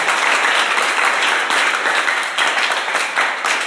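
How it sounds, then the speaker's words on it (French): A church congregation claps and cheers together, dense loud applause filling the room evenly with slight swells, no pauses throughout. "tu peux t'acclamer"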